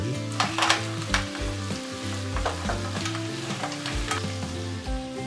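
Squid, shrimp and chili paste sizzle in hot oil for a Thai Tom Yum seafood rice, with a steady crackling fry and a few sharp stirring scrapes, all over a running background music track.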